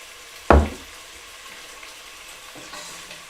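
Tomato pasta sauce with balsamic in a pan gives one sharp burst of sizzling as it is stirred, then a quieter bubbling hiss with a second, fainter scrape near the end.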